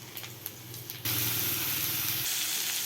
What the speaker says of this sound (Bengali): এবার কড়াইতে তেল দিয়ে তাতে কুচনো আদা দেব।